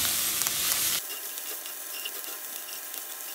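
Food sizzles in a pan for garlic pork chops and is stirred, with a loud burst of sizzle at first that drops to a softer, steady hiss with faint scraping and crackles.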